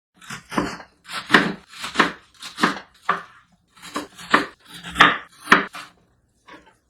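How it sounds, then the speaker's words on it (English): A knife chops potato and other vegetables on a wooden board for Korean black bean noodle sauce: about a dozen firm, close cuts in an uneven rhythm, each with a short board knock, and no talking. "And potato, I will just cut as a half."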